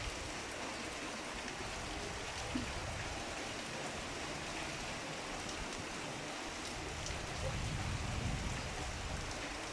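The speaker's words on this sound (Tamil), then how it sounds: "மழை வேகமாக இருக்குது" Heavy rain pours down in a dense, constant roar, drumming steadily on surfaces all around without pause.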